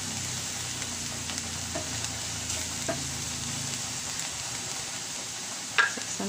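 Minced garlic frying in a pan while it browns, a close, steady crackling sizzle that keeps going throughout with a few small pops and stirring scrapes.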